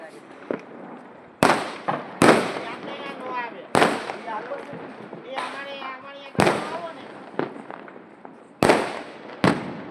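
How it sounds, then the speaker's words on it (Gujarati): Diwali firecrackers and fireworks going off in daytime in Junagadh, roughly eight sharp, loud bangs at irregular intervals, with people talking between the bursts. "ગાઈસ તો એવા ફટાકડા ફોડે છે."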